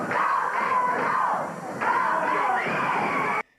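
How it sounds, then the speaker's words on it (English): A 1986 Memphis wrestling arena crowd cheers a team in loud, sustained waves of shouting and yelling, broken by a short dip before surging again, then cutting off abruptly. "they're cheering this team that they've consistently booed, and they're loving it"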